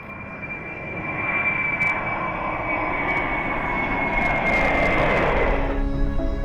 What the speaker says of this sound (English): Four General Electric TF39GE1C turbofan engines power the C-5 Galaxies.